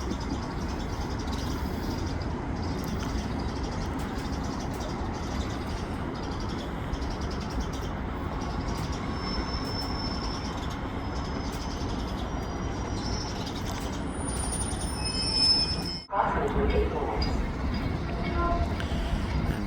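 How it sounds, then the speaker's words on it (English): Two-car train approaching on the South Bend line, a continuous rumble of rail noise that builds steadily, with birds chirping faintly and occasional talk nearby. "Here comes that train to South Bend now."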